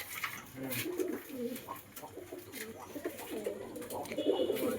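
Giribaj pigeons coo softly and repeatedly at a pigeon farm at night, in a quiet, close series of low, rolling calls.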